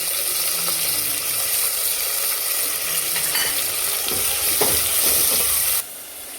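Tomatoes and leafy greens such as spinach and fenugreek sizzle loudly in hot oil in a pan for khichdi, a steady close frying hiss with a few stirring clinks near the end before the sizzle drops slightly.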